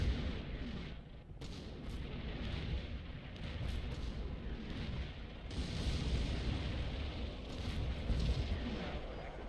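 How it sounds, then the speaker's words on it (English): Mortar fire in the Combat Mission Shock Force war game, a dense, low rumbling barrage of booms and blasts rolling continuously at moderate distance, with several sharper bursts standing out through the steady din. "They are now being engaged by a mortar."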